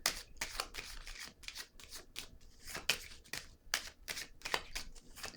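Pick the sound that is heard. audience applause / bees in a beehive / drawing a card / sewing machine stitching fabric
drawing a card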